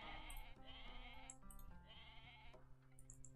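A goat in Age of Mythology bleats twice in quick succession, wavering and nasal, over a quiet game backdrop with faint chimes.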